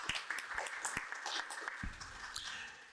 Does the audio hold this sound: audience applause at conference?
yes